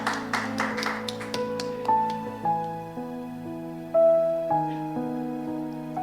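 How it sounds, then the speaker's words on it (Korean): A church congregation at a Wednesday service claps in thanks with a brief burst of applause. Sustained keyboard chords then take over and ring on alone. "감사의 박수 올려드리겠습니다."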